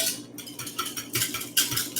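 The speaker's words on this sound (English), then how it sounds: "I'm going to mix this up." A utensil stirs milk into a thick dough in a dish, with repeated scraping and clinking strokes close by, alone and without talk.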